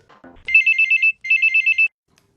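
A telephone rings for a caller on a radio phone-in programme: two trilling electronic bursts, each of rapid pulses, close and clean against silence, with a faint voice just before.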